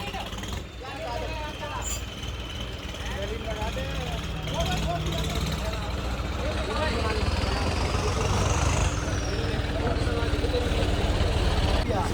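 A John Deere 5310 tractor engine, hitched to a cultivator and towing a Defender off-road, drones steadily and loudly throughout with a rising rumble, while people talk over it.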